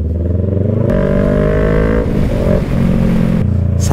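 A motorcycle revs loudly and steadily on a village road in Teresa, Rizal, its engine note holding close for several seconds, with a brief dip and surge partway through as it passes.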